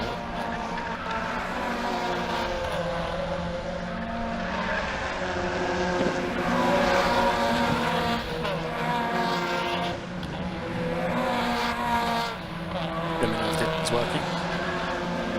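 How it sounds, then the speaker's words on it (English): Race cars brake hard into the Mansfield corner at Cadwell Park, locking up under heavy braking; a loud, continuous roar of engines and tyres carries throughout, overlaid by commentary. "Cars locking up as they stand on the brakes in towards Mansfield."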